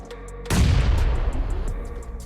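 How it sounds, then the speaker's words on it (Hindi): A grenade explodes in the BGMI (PUBG Mobile) video game, a sudden close boom with a deep rumbling tail that slowly fades, set against faint in-game background sound. "अब इस पोरा ने ग्रेनेड फेंका"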